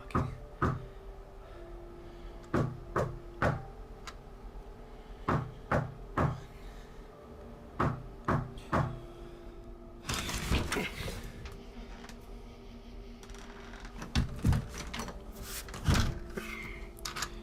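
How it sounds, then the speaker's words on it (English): Knocking on a front door, sharp wooden raps arriving in distinct groups of three with pauses between sets, repeated across the stretch, plus a louder rattling, shuffling burst partway through. "There's been someone knocking at my front door for the last 10 minutes or so"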